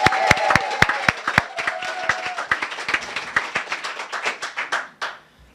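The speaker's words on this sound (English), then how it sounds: "I think Angela got a bigger cheer." An audience at a graduation event claps steadily with scattered cheers, a dense burst of applause that gradually thins out and stops near the end.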